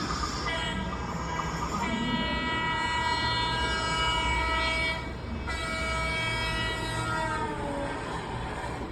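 A train sound effect played over speakers at a Toastmasters club meeting: a steady rumble of a moving train with long sustained horn blasts, one pausing briefly before sounding again, loud and continuous.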